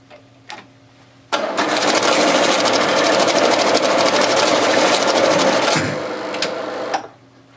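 A Toshiba IBS-200 banknote sorter runs its bills for about five seconds, a loud, steady mechanical whir with rapid fluttering and clicking, then winds down into quieter clicks and stops.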